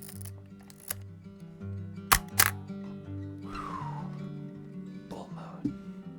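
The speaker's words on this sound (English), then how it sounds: "It's got a pretty nice shutter sound." A Fujifilm ST605N film camera fires its shutter a few times, giving sharp mechanical clicks and a brief winding whir over a steady low hum, close up.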